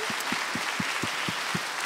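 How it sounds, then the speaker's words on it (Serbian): A television studio audience claps in an even, rhythmic beat of about four claps a second, a moderate, steady applause with no voices over it. "Jedan aplauz."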